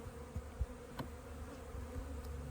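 Honey bees from an opened nuc hive buzz around during an inspection, a low, steady droning hum close by with a few brief louder passes of single bees, no voices.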